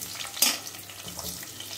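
Onions going into hot oil with popped mustard seeds for a Tamil drumstick leaf kulambu, a brief sharp scrape or clatter followed by a low, steady sizzle close by, with no talking.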